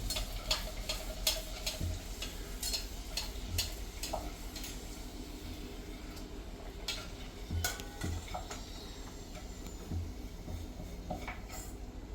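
Kachori fries in hot oil with a steady bubbling sizzle throughout, punctuated by clicks and light clinks of a utensil against the pan; no one speaks.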